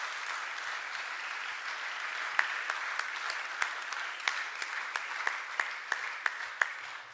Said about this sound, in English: We give them applause.